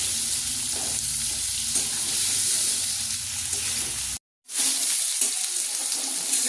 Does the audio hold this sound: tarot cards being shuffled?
no